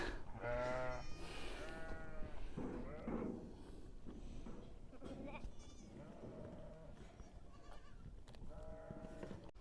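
Several bleats from young goats in a desert in Israel, a mix of nearer and farther calls repeating through the clip, with a person talking over steady outdoor background noise.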